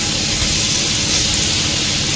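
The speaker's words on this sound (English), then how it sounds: "Once you hear that sizzle, you know it's ready to go." Curry ingredients frying in a hot pan give a steady, loud, close sizzle, a dense hiss running unbroken throughout with no talk over it.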